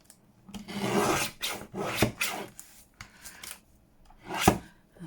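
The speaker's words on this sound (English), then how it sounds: "And then I shall get the trimmer and just straighten" A paper trimmer slices through a book page in a few quick, scraping strokes, close and fairly quiet, with short rubbing bursts between cuts.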